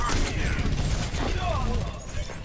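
Bastion's turret in the video game Overwatch fires in a dense, continuous rattle of rapid shots, loud and close, with game effects and voices mixed underneath.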